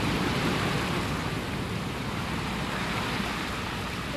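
Floodwater churns and surges across a flooded Houston street during the August 2009 flooding, a steady broadband wash of water with no distinct breaks, close and fairly loud.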